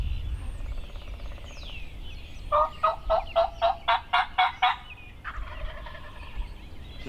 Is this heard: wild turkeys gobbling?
yes